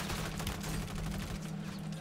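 Gunfire aimed at the player in a team shooter match with an AMR-9 loadout, a dense continuous clatter of rapid shots with a steady low hum underneath, loud and unbroken for most of the moment.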